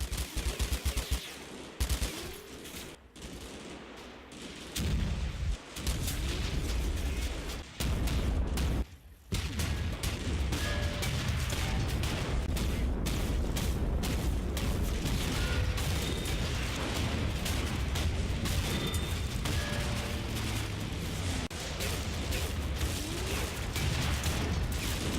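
Sustained machine gun bursts and heavy booms from the WWII video game Combat Mission Final Blitzkrieg roll on almost without pause, loud and dense, with brief gaps early on before the battle noise settles into a constant roar.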